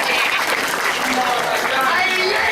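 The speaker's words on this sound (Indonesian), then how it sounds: "Paling pisan tepuk tangan buat Ini" Dense, continuous applause from a crowd at a Balinese Calonarang performance at Pura Dalem Tingas, loud and unbroken throughout.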